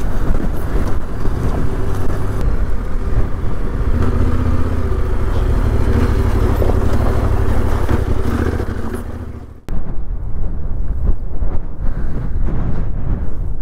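Yamaha Tenere 700 adventure motorcycle, heavily loaded, ploughing through soft sand on the Canning Stock Route, its engine droning loud and steady with heavy wind buffeting the microphone, cutting out briefly before the roar resumes.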